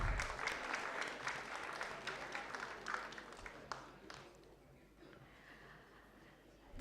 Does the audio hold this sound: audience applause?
yes